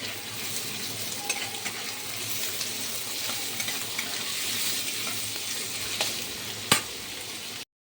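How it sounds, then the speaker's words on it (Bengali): Potatoes fry in hot oil in a wok, a dense continuous sizzle with spoon stirring and scraping, one sharper clank near the end before it cuts to silence. "দেখো এবার এই আলুটা ছেড়ে দিচ্ছি, আলুটা ভাজা হবে"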